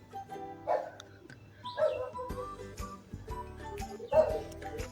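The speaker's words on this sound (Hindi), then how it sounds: "यहाँ पे थोड़ी सी आपको कुत्तों की आवाज़ आ रही होगी" Dogs bark, yip and whimper at a distance in several short, irregular bursts, fairly faint, during home cooking of a festival fasting dish with no talk over them.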